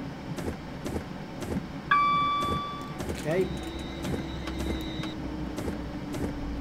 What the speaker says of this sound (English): Just get the entire train onto the platform and then I'll bring us to a stop.